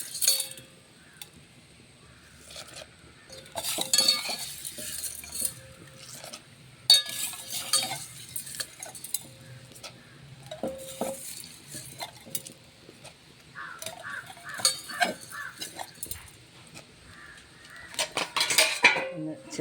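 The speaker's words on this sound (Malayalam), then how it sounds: "ഒന്ന് ചെറിയ സ്പൂണ് കൊണ്ട് ഒന്ന് ഇളക്കി കൊടുക്കും" Green gram being stirred in a pot with a small spoon, giving scattered metallic clinks and scraping taps at an uneven pace, near and clear against a quiet background, with no speech.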